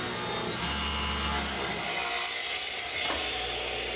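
Strips about 1 5/8 inches wide are ripped from a 2x4 wood board with a steady, continuous sawing roar at close range that drops away near the end, with no talk.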